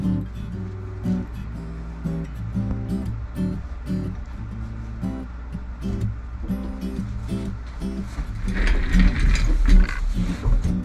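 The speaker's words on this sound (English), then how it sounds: "we can go ahead and carve out the inside of this Florentine cutaway now." A chisel carves the inside curve of a Florentine cutaway mold for a guitar, giving repeated close scraping and clicking strokes in an uneven rhythm that grow louder and denser toward the end.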